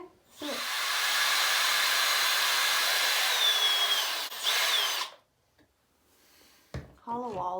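Power drill boring into an old wall for hollow wall anchors, a loud continuous high whine for about five seconds that stops abruptly, followed by quiet and then a voice speaking.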